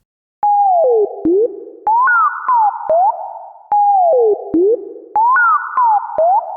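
A bendy lead synth line plays alone: short staccato notes that glide and pitch-bend down and up, in a repeating two-bar phrase with sharp clicks at each attack.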